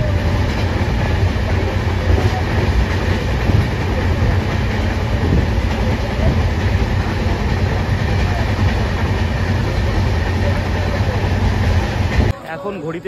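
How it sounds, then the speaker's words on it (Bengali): The Kamrup Express passenger train pulls away from a station and runs on the rails, heard from inside a general-class coach as a loud, steady rumble with rhythmic clickety-clack throughout, voices talking underneath. "এবার ট্রেন ছাড়ছে"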